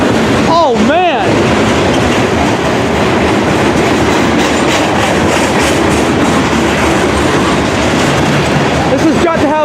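A long Delaware and Hudson freight train of about 90 cars rolls past at a railyard in Rocky Mount, NC, a steady loud rumble and clatter of wheels filling the whole stretch, with a horn-like tonal call near the start and voices faintly underneath.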